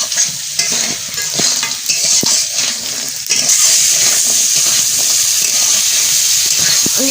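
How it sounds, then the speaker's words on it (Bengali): A crab frying in a pan gives a loud, dense hiss of sizzling oil that swells louder partway through, with stirring scrapes and knocks over it. "এবার ভালো করে ভেজে নেবো কাঁকড়াটা।"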